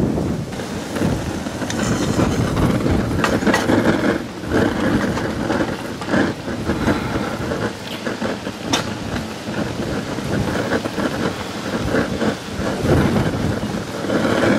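Strong gusty wind buffets the microphone outdoors around a hobo camping stove with a flame burning under a canteen cup, producing a loud, continuous roar with sharp rushing bursts and no talk.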